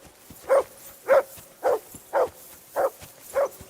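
A dog in Kingdom Come Deliverance 2 barks six times at a steady, even pace, each bark short and fairly close.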